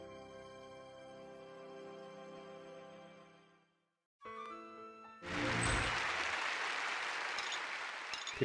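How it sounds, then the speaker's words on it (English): Applause from a crowd in a video game, a dense burst of clapping that rises after a sustained musical chord cuts out, steady and loud, continuing to the end without talk. "People actually clapped."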